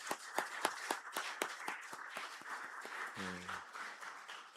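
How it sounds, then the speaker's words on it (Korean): A church congregation at a Sunday afternoon service applauds in welcome, sharp sparse claps at first that blend into softer scattered clapping, with a brief voice partway through. "우리 박수로 환영하겠습니다."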